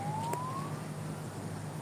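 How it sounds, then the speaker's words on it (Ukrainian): A police siren outside rises in a single faint, distant tone sweep, heard through a room over a low steady hum. "Чуєте? Їде скоро чи поліція?"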